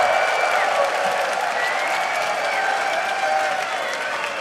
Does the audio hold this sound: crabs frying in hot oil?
no